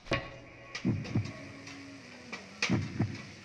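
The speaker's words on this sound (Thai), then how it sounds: "เสียงหัวใจดังมาก" A loud heartbeat thumps in an irregular double-beat rhythm, a few deep pulses with a faint hum underneath and no talking.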